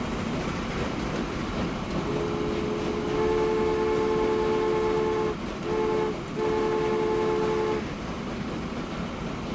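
A train in the video game Transport Fever rolls into its depot, a loud steady rumble with a sustained multi-tone horn blast that breaks briefly twice before fading.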